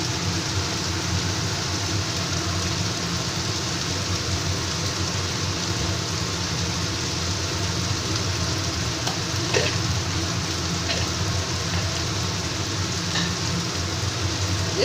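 Spice paste of chili paste, salt and turmeric frying in a pan for a bhetki fish bone chorchori, a steady loud sizzle with occasional scraping stirs, no voices.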